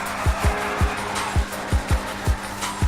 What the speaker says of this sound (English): Listen to the exhaust on this monster.